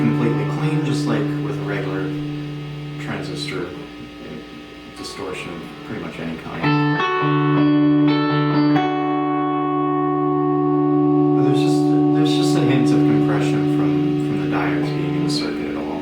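Electric guitar played clean through a Fallstaff germanium booster pedal, with sustained chords and ringing notes that hold and decay, close and fairly loud with a touch of reverb and some talking mixed in.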